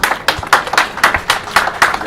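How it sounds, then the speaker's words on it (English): An audience at an evening talk claps for a guest speaker, producing loud, close, rhythmic claps in a fairly regular beat of around four per second that continues steadily throughout. "Let's give him a round of applause."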